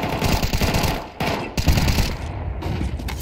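Rapid, loud bursts of automatic gunfire from competitive Counter-Strike 2 on the Mirage map, near and nearly continuous, with only brief gaps between volleys.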